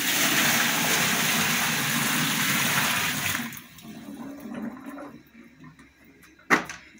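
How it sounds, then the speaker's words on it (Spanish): Water from a bucket is poured into a digital washing machine, a loud, gushing rush for about three seconds that then cuts off to quiet dribbles and a final sharp knock. "Vamos a llenar la lavadora."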